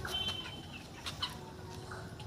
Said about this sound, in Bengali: এই দেখো, কয়লার মুরগি নিলাম।